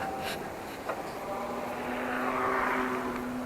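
A fixed-wing airplane flies near Nedumbassery airport in Kerala, heard from a roadside during a cycling ride. Its engine drone is moderately distant and swells steadily over low background noise.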